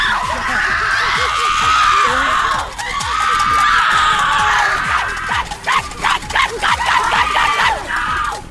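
Several dogs, service dogs at a Great Adventure Fright Fest haunted event, bark in quick repeated bursts amid crowd noise and screams, with people talking nearby throughout.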